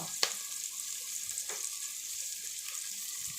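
Onion, green chili and mint sautéing in hot oil for an egg biryani, a steady soft sizzle with a couple of sharp clinks of a stirring utensil, fairly close and with no talking.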